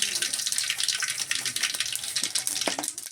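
Mustard seeds hit hot oil in a pan and sizzle with a dense, crackling hiss close by, with scattered sharper pops breaking through toward the end.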